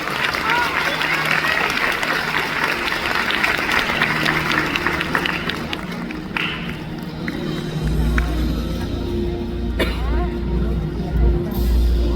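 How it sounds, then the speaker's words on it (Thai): A crowd at an outdoor stage show in Suphanburi, Thailand, claps in a dense, steady patter that gradually thins out, with someone speaking Thai over a public address system throughout. "ขอเสียงปรบมืออีกหนึ่งครั้งนะครับ"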